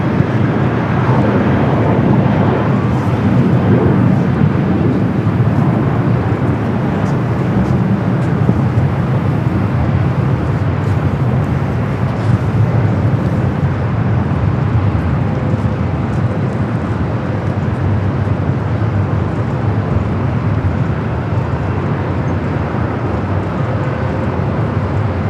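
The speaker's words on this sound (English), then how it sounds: "Air Tahiti Nui, Flight 102. The flight coming from Papeete, 787-9 Dreamliner. Your next heavy arrival on the south side" An Air Tahiti Nui Boeing 787-9 Dreamliner arriving from Papeete lands on the south side of LAX, a steady, loud, broad roar of jet engines and rushing air that holds for the whole stretch, with wind buffeting the microphone.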